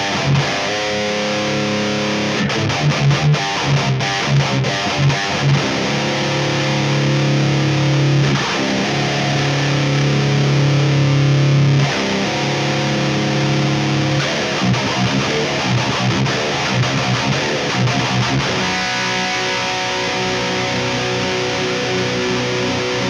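Heavy distorted ESP LTD M-201B baritone electric guitar playing low chugging riffs and sustained chords, loud and continuous, with no voices.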